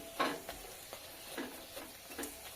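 Soft sizzling of a paratha frying in oil, with a few light scraping or stirring touches, quiet and close.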